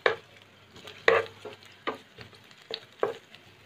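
Chopped green chillies and other ingredients for cabbage Manchuria are stir-fried in a pan: four or five sharp, separate scraping strokes of a spatula over a faint sizzle, close and clear with no talking.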